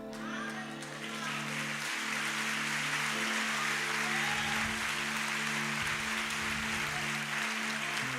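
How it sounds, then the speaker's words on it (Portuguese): An audience at a youth life-project event breaks into sustained applause that swells after a brief lead-in and holds steady, a thick wash of clapping under a faint background hum and tone. "Não para de aplaudir, não para."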